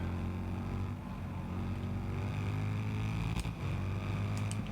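A motorcycle engine in the racing game Ride 6, a sustained low droning hum with layered tones that dip slightly and swell again, steady and moderately loud.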